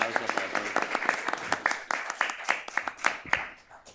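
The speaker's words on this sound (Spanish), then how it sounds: "Un aplauso" An audience at an academic conference on the People's Republic of China applauds, with sparse individual claps building into a scattered round of clapping close by that tapers off near the end.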